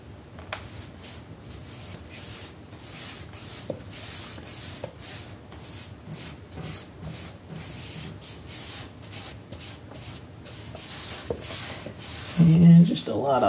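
Wax is rubbed by hand onto a wooden cabinet slide-out pot rack, a quiet continuous scrubbing with faint scraping strokes, ending with a brief louder knock or thump.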